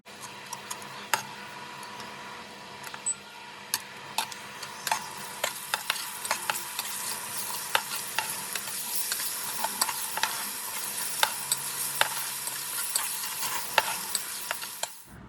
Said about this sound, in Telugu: Finally chopped ginger garlic paste add చేస్తున్నా. ఇది కొంచెం ఫ్రై చేసుకుందాం